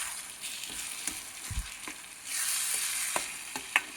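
Eggplant burji with tomato and green chilies frying in a pan, a steady soft sizzle broken by scattered clicks and scrapes of a spoon stirring, no voices.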